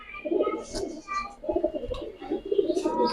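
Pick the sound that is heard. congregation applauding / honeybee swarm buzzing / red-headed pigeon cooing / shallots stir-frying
red-headed pigeon cooing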